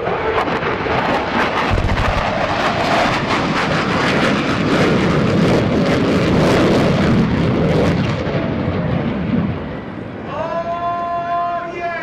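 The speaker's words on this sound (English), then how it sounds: "From VFA 106, your United States Navy's A-18 Super Hornet." A US Navy F/A-18 Super Hornet from VFA 106 makes a low airshow pass at NAS Oceana alongside a pyrotechnic wall of fire, a loud sustained jet roar with rumbling blasts that fades near the end under crowd noise.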